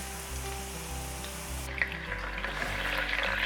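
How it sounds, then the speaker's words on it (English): Seitan sizzles and crackles as it fries in neutral oil in a pan, a steady close hiss with small pops that grows a little louder toward the end. "you can hear it really sizzling"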